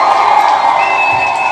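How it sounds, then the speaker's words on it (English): A crowd cheers and claps in a dense, sustained roar, loud and close, with a sharp whistle cutting through partway. "I want to give each and every single one of you a huge round of applause"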